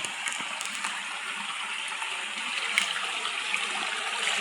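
A small brook flows over a rough jungle trail, a steady broadband babble of running water held at an even level throughout, with no talk.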